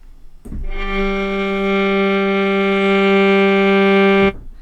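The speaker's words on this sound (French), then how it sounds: "vous avez le son de l'alto avec rien. Il n'y a pas de reverb" A single sustained viola note sounds dry and steady for about four seconds, with a direct attack and an abrupt stop, no room echo.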